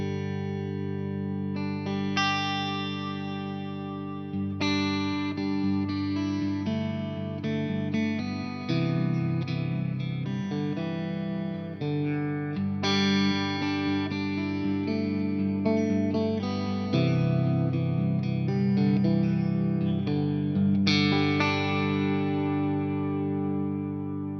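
Electric guitar played through a reverb pedal on its Epic setting, giving a long ambient wash of sustained chords and notes that blur together, loud and steady without any talk.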